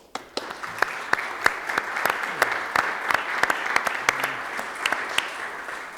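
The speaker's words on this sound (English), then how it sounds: "ask you to join me in a round of applause welcoming him and all of our panelists" A lecture-hall audience gives panelists a round of applause at a Britain and Ireland event, with dense, even clapping that holds steady throughout, punctuated by a few sharper claps.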